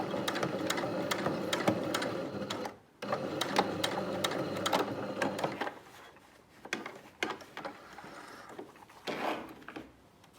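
A sewing machine stitches down the small triangle of a bound buttonhole, a steady close whir that breaks off once, then comes in shorter stop-start bursts.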